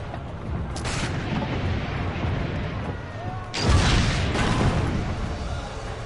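Cannon fire in the video game Assassin's Creed Brotherhood: heavy booming blasts mixed into a dense battle din, with one big, loud burst in the latter half.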